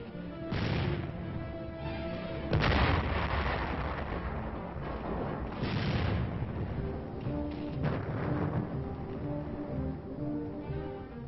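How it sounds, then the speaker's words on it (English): Korean War artillery fire, several heavy booming blasts at irregular intervals, each a broad rumbling roar that swells and fades into a continuous low battlefield rumble, loud and fairly close. "artillery continued to chase the enemy"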